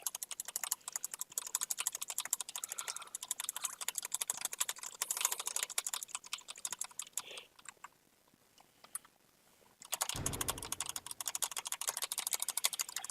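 Rapid, close clacking of a computer keyboard during a fast Deltarune Chapter 1 run, dense continuous keystrokes that pause briefly near the end before resuming just as busily.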